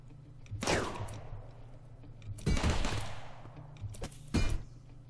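Gunfire in RimWorld: three separate bursts of shots, each a sharp loud crack with a decaying tail, spaced roughly two seconds apart over a steady low hum.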